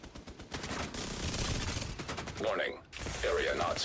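Rapid bursts of automated turret gunfire in a video game, dense sustained rattling volleys that pause briefly before resuming, with a synthetic voice cutting in near the end.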